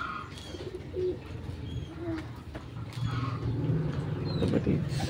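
Racing pigeons coo in soft, low, repeated murmurs close by, mixed with occasional chirps and light rustling in the loft, with no voices.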